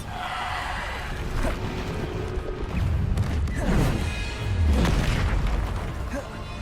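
Bombarda blasting spells in Hogwarts Legacy go off as several deep booming explosions with crackling bursts, loud and close, over continuous game sound and some voice.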